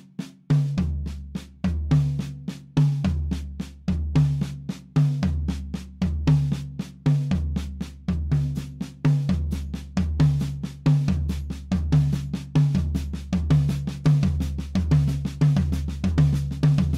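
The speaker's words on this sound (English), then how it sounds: "Version 2 is playing the accents on the tom-toms." Drum kit paradiddle (RRLR LLRL) with accents moved to the tom-toms: a steady, even stream of close, loud sticking with the accented tom hits booming out in a repeating pattern, no talking.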